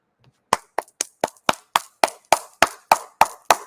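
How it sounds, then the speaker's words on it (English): A single person claps hands close to the microphone, about twelve sharp, evenly spaced claps in a steady rhythm against silence. "I clap for y'all right now because y'all can't clap for yourself"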